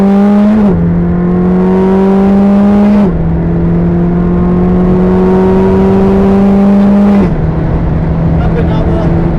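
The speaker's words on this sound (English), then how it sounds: "Begin to accelerate down the left hand side," McLaren 620R supercar accelerating on the Silverstone circuit, a loud, close in-car engine drone rising steadily in pitch through three gear changes, each marked by a brief drop before climbing again.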